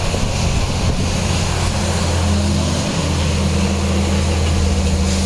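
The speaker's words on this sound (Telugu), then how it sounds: "ఒకసారి ఇంజన్ స్టార్ట్ చేసి చూపిస్తాను సార్." A 2021 Maruti WagonR VXI petrol engine catches and settles into a steady idle, a low, even hum that holds close and constant after the start, with no voices.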